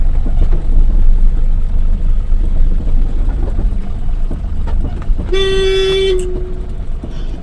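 A vehicle rolls along a muddy, rain-soaked road with a loud, continuous rumbling drone, and a horn gives one sustained toot near the end.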